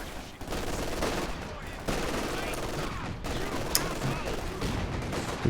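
Battle sounds from a real-time strategy game match, a 2v2 tournament quarterfinal: a grenade blast amid steady rattling small-arms gunfire, dense and continuous, with a sharp pop near the end.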